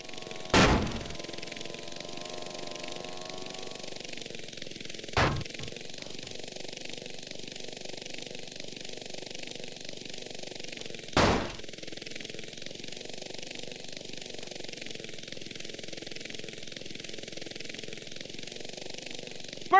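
Tanks rolling and firing in a video game: a continuous, steady engine rumble runs throughout, broken by three sharp, loud shots spaced several seconds apart, with no talking.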